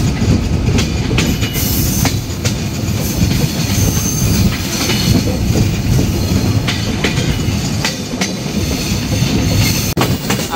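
The Silkcity Express, running from Rajshahi toward Dhaka near Chatmohar station, gives a loud, close, continuous rumble of rolling carriages. Rhythmic clickety-clack beats of the wheels sound throughout, and no voices are heard.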